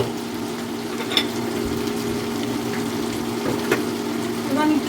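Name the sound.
frying shrimp with vegetables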